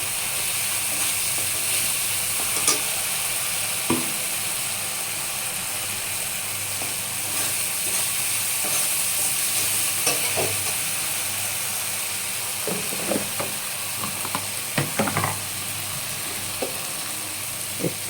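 Soya chunks and potatoes fry in hot oil with a steady, even sizzle and hiss, broken by occasional faint clicks and scrapes of stirring.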